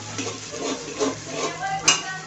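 Spices or aromatics are stirred and sautéed in a pan over a high gas flame after onions for a chhole bhaat cooker dish, with soft continuous sizzling, rhythmic stirring scrapes and a sharp clink of utensil on pan near the end.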